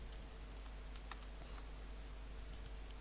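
Keyboard keys tapped while writing JavaScript code, a faint scatter of soft clicks over a steady low hum, close but quiet.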